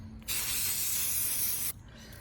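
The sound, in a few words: spray paint can spraying mug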